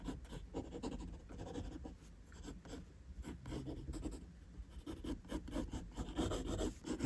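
A pencil drawing dark outline strokes on paper for a clothing-wrinkle sketch makes faint, close, continuous scratchy rubbing in repeated short strokes, with no speech.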